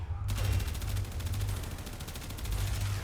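Rapid automatic AK-47 fire in the video game Warframe, a dense, continuous rattle of shots at close range, loud and unbroken for about three seconds with no talk over it.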